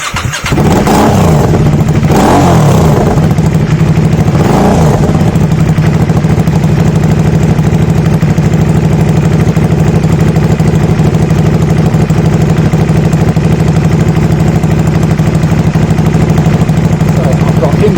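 An Aprilia Shiver motorcycle engine cranks and catches, with a few uneven bursts early on. It then settles into a loud, steady idle right next to the listener for the rest of the clip.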